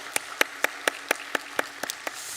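A church congregation claps in slow, evenly spaced beats to welcome new members at a Sunday service, about ten distinct claps, close and clear with no talk.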